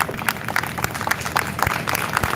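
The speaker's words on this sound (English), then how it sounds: "A bigger and stronger round of applause." A crowd at the DLF Privana North real estate launch keeps up a steady round of applause, with many overlapping claps at an even level throughout.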